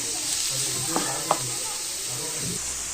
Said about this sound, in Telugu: అలాగే 2 పచ్చిమిర్చి వేసుకోవాలండి. ఇవి గోల్డెన్ బ్రౌన్ కలర్ వచ్చే వరకు వేయించుకోవాలి.